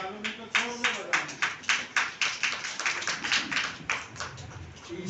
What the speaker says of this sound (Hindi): ताली भी बजाना है तो अच्छे से बजा लो,